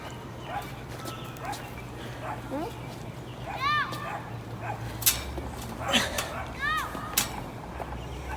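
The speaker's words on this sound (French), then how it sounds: "Il jappe." A dog yips a few times amid a lively outdoor gathering, short bright barks and whines rising over people talking and laughing nearby.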